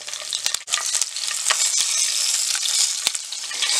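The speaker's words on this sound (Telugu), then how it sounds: "ఆయిల్ వేడైన తర్వాత 3-4 పచ్చిమిర్చి, కొంచెం 2 రెబ్బలు కరివేపాకు వేసుకొని ఫ్రై చేసుకోవాలి." Green chillies and curry leaves frying in hot oil, a bright continuous sizzle with a few sharp crackles and pops near the start, close and loud, with no talking.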